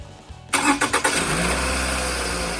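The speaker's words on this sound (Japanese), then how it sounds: "エンジンかけます。" A Toyota Estima engine is started after its engine mount was replaced: a brief starter crank, then the engine catches abruptly with a few quick pulses before settling into a loud, steady idle close by.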